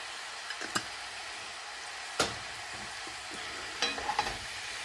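Cabbage cooks down in a pan alongside turkey meat, a soft continuous sizzle with a few sharp clinks and scrapes of a utensil stirring at scattered moments.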